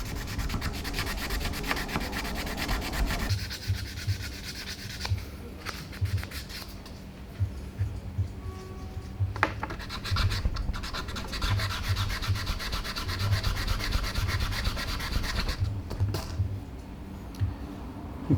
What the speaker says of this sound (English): As you see, it does sand really quick.